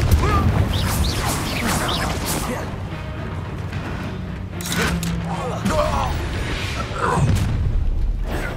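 A Confringo blasting spell explodes in Hogwarts Legacy, with a few sharp crashing bursts cutting through busy combat noise while voices talk over the fight.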